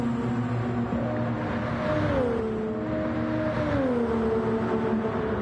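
Gr-4 race cars in a Gran Turismo racing game drive down a straight, their engines holding a steady loud drone with pitch slides as gears change, continuous and alone without speech.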